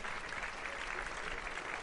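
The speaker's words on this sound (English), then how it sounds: "let's give Higgy a round of applause for figuring out how to control that." Audience applause during a live jazz and blues radio broadcast, a steady continuous hiss-like patter of clapping with no distinct beats, moderately faint and even for the whole stretch.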